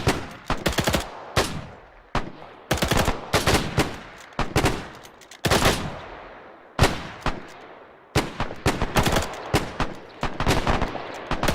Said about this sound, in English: Switch fire pit, far side right!